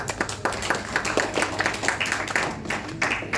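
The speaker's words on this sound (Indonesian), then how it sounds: "berikan tepuk tangan untuk kelompok" Group of people in a classroom session applauding a student group after its presentation, a steady dense patter of many hands clapping close by for a few seconds.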